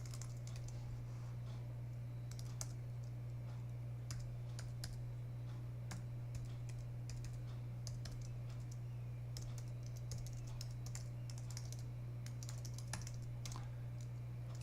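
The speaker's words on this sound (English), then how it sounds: "it's going to make me go ahead and type in my email." Someone types an email into a sign-in screen on a computer keyboard, giving quiet, steady key clicks in irregular bursts over a low constant electrical hum.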